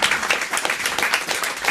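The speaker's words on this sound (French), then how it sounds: "On vous applaudit" A studio audience at a French television talk show applauds loudly in a dense, continuous roar of clapping.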